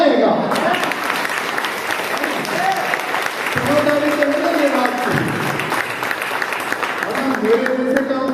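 Audience applause at a seminar meeting, a dense sustained clapping from a crowd that fills the room, with a voice speaking loudly over it.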